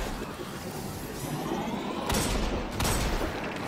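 Rapid gunfire in the video game Destiny 2: The Witch Queen, a dense, loud barrage of overlapping shots and blasts that swells into heavier impacts toward the end.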